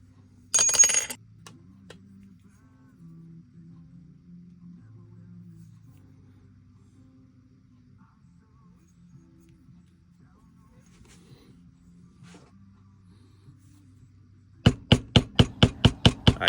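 Mallet striking a stamping tool to bevel leather for a coin wallet: one sharp strike early, a long quiet stretch with low murmuring, then a rapid, even run of about ten close, loud taps at the end.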